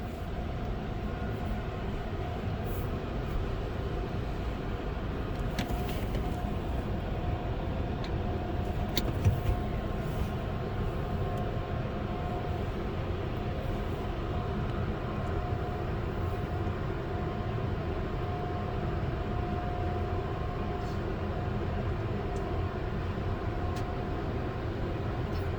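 Inside a running Sonny's tunnel car wash at a Topshine site, a steady loud mechanical rumble and whir of the equipment fills the space without pause, with brief rattles partway through.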